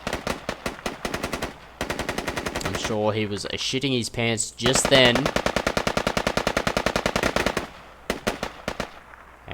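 Rapid automatic gunfire in an online multiplayer game match, with long bursts of loud, tightly spaced shots, short pauses, and a commentator's voice talking over the middle.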